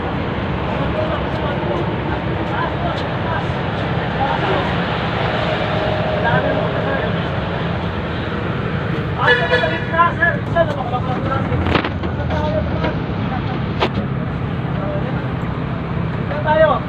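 Steady road traffic rumbles through the whole stretch, broken by a few sharper passing-vehicle bursts and clanks, while people talk now and then over the noise.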